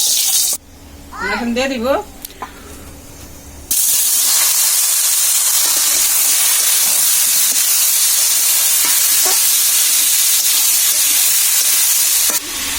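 Fennel and mustard seeds fry in a little oil for pineapple chutney, giving a steady broadband sizzle that runs to the end after a woman's brief speech at the start.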